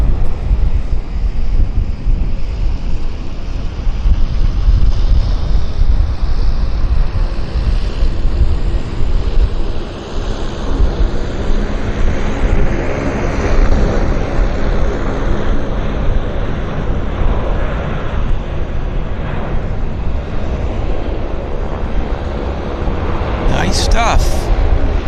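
A WestJet airliner makes its takeoff roll at Vancouver airport: a steady, broad roar that holds from a distance for the whole stretch, rising slightly in the middle, with a brief sharp rattle near the end.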